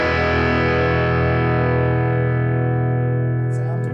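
An electric guitar plays through a Zoom G3Xn unit set to a plexi amp distortion, a single thick chord ringing out and sustaining loudly before slowly fading.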